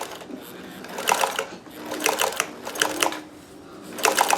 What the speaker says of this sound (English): I've got on the Zigzag machine, it's straight, just sewing a straight stitch